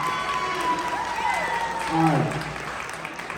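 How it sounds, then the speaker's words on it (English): Cosplay contest crowd at an anime convention in Texas claps and cheers while a voice speaks over the noise, with whistle-like tones sweeping down near the middle. "keep giving them a round of applause"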